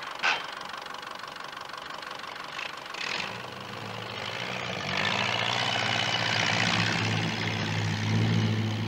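A Massey Ferguson TE20 tractor engine runs as it is driven, a steady mechanical drone that starts up and grows louder and fuller midway, continuing as a throbbing idle-like rumble without talk.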